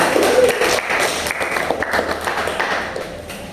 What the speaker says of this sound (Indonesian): aplaus lagi untuk kalian